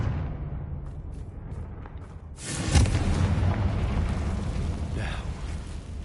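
A Confringo fire spell explodes in Hogwarts Legacy on PS5: a sudden loud burst hits midway, then a broad, rumbling roar holds for several seconds over a low game ambience.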